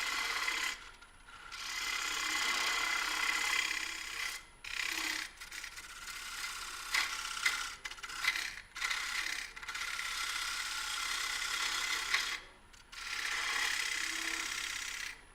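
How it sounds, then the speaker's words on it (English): Scraper tool cutting wood on a lathe while turning a three-leg bowl, a steady rasping, scraping whir that runs almost continuously with a few brief pauses as the tool lifts off. "I'll use it as a scraper first and ride the bevel."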